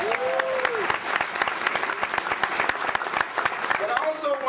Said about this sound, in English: Give me another big round of applause.